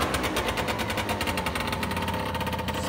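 A Peugeot Speedfight scooter engine runs after a kick start, giving a rapid, rattling two-stroke buzz with dense pulsing that stays loud and close throughout, and no one speaks.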